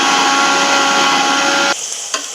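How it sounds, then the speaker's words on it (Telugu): A mixer grinder roars loudly as it grinds coriander, ginger and green chillies, running at full speed close up, then cutting off abruptly near the end, leaving a brief quiet clunk. "కొత్తిమీరని, అల్లం, పచ్చిమిర్చి కూడా మిక్సీ పట్టుకోవాలి."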